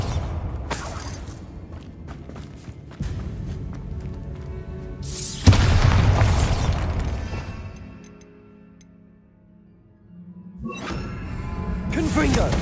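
The Bombarda spell goes off in Hogwarts Legacy on PC as a sharp crashing blast that swells into a loud, roaring burst. It then fades, and another rumbling impact rises near the end amid busy game noise.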